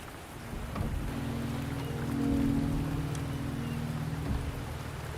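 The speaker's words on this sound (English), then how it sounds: "The rain is subsiding, and the sky will soon clear." Steady rain falls in the game world of Wuthering Waves, a continuous, fairly loud wash of drops with a low rumbling undertone throughout, no voices.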